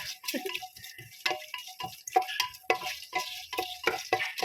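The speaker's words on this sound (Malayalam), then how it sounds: "തേങ്ങയിട്ട് നന്നായി ഇളക്കി കൊടുക്കണം തേങ്ങയൊന്ന് നല്ല ബ്രൗൺ നിറമാവുന്നത് വരെ നമ്മൾ ഇളക്കി കൊടുക്കണം" Grated coconut being stirred in a pan on the stove as it browns, with repeated close scraping strokes of a spoon against the pan over a light, steady frying crackle.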